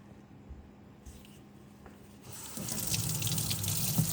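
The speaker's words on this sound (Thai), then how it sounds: "ทำการล้างนะคะล้างน้ำไปเลย ล้างตรงตรงไปเลย" A kitchen tap starts flowing partway through as pine mushrooms, matsutake, are washed, with faint handling and drips first and then steady running water splashing close by.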